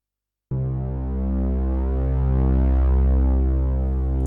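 A Waldorf Iridium synth pad with a filter envelope enters abruptly after a brief silence, then holds as a dense, buzzy harmonic drone that gradually brightens and swells, loud and alone.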